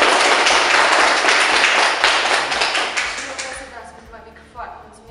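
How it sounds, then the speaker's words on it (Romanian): Applause for a mother at a family celebration with flowers in Căzănești: a dense, steady patter of clapping from a group nearby that thins and fades out over a few seconds. "Aplauze, hai să punem."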